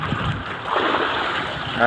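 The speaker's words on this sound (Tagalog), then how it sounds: "lumalaki yung alon" Sea waves grow bigger around a small fishing boat, a broad rushing wash of water and wind swelling and receding close by, with a voice briefly heard.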